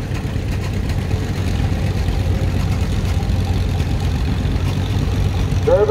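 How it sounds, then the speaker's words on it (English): A 1950 John Deere B tractor runs in a farm club tractor parade, its engine a steady, continuous low chugging rumble that holds close and fairly loud for the whole stretch. "We have a John Deere B, a 1950 model."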